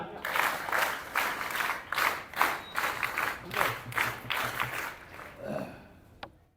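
Crowd applause at a school inauguration event, a steady wash of clapping with rhythmic pulses lasting several seconds, then tapering off abruptly.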